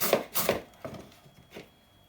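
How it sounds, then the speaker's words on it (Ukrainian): Carrots are rubbed against a grater for Korean-style carrot salad, a few quick rasping strokes, two strong ones then fainter ones, close and brief with no talk. "Я буду моркву натирати"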